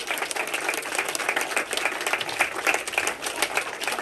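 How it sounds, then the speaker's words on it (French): Crowd clapping at the opening of a sports-themed photo exhibition, a lively, close, rhythmic burst of many hands that holds steady for several seconds. "Eh bien, on peut les applaudir parce qu'ils ont accueilli les photographes."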